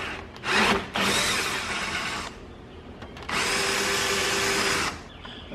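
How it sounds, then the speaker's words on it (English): A power drill with a 5/16 bit bores up through a pilot hole during a front camera install on a 2016-2019 Toyota Tacoma, giving two long steady whining bursts with a short spin-up before them and a brief pause between. "we're going to drill up through that pilot hole and hope all is right"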